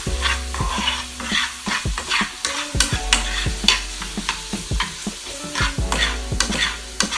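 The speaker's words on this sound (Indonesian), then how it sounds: "Kita pakai jamur kancing di sini. Ini juga sama, kita tumis sampai warnanya kecoklatan." Button mushrooms sauté in a pan, stirred with a utensil that knocks and scrapes in an irregular rhythm over a soft, steady sizzle, close by with no talking.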